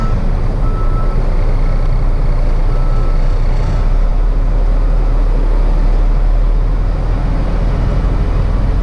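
A truck reverses with beeping inside a busy freight dock at night, under a constant loud rumble of engines and traffic that nearly buries the faint warning tones.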